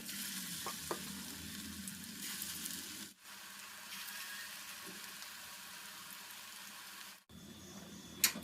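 Vegetable pakoras frying in oil in a wok in a home kitchen, a steady, fairly loud sizzle running throughout with a couple of short breaks, alone without talk.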